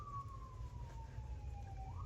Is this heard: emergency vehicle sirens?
yes